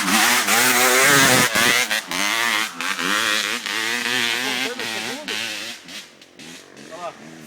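Trail motorcycle labouring uphill at low revs, around 2,000 rpm, on a Japiape trail ride, its uneven engine drone close and loud under steady talking from nearby riders.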